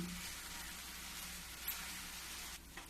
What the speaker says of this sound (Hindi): अब मैं इसको इसी तरीके से अभी थोड़ी देर और चलाऊंगी।